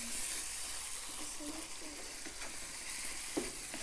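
Spices with red chilli and coriander powder frying in a pan for mashkalai dal, a soft, steady hiss of frying with faint stirring, fairly quiet and without talk.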